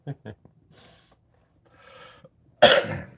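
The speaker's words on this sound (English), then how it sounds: "coughing on everybody" A loud, harsh cough bursts out near the end, after a few short throat sounds and some low murmured talk earlier on.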